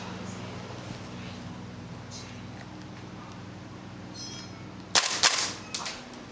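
A Gunsmodify SCAR MWS gas blowback airsoft rifle fed from a TM magazine fires a short burst of a few sharp, loud cracks near the end, after a stretch of quiet room hum.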